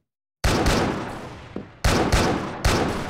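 Heavy sniper-rifle shots from an AWM Noble Gold in the online shooter CrossFire: four loud, sharp cracks with ringing decay, the first followed by a long tail, then three in quicker succession.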